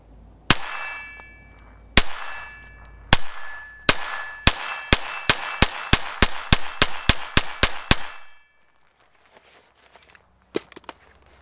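A Kel-Tec P17 .22 pistol fires at steel targets: four spaced shots, then a rapid string of about a dozen sharp cracks with ringing clangs, followed by a few faint clicks.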